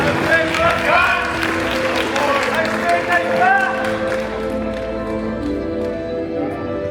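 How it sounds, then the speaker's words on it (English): Audience applause at a bodybuilding show, a crowd clapping steadily for several seconds while voices and music-like tones carry over it, fading slightly toward the end. "Audience members, a round of applause"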